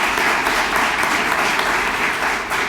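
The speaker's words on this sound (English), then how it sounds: "So let's give them a round of applause." A crowd at a Mayor's Youth Academy youth agenda event applauds in a dense, steady wash of clapping that stays loud and even throughout, with no voices heard over it.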